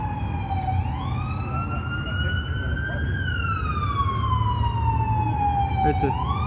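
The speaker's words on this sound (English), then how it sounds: "There's where the siren was." An emergency siren from a police car wails in long rising and falling sweeps, moderately loud, over a steady rumble of Las Vegas Strip traffic with no voices.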